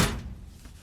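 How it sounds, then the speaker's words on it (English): A car door fitted after a roll cage modification shuts with a single dull thunk at the start, followed by faint room noise. "Door shuts."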